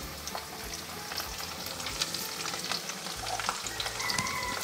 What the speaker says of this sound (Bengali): এবার পেঁয়াজটাকে একটু ভালো করে ভেজে নিতে হবে